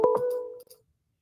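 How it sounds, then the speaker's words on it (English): Phone call notification tones from an incoming call-relay line, a short two-pitch tone sequence sounding alone and fading out after under a second. "You have a phone call from Triple X"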